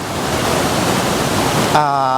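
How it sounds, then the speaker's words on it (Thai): The waterfall at Tat Ton National Park pours in a loud, steady broadband rush. A voice then breaks in over it near the end. "เสียงของน้ำตกที่มันตกเนี่ย สียงมันแบบนี้ทั่วทุกอุทยานไหมครับ"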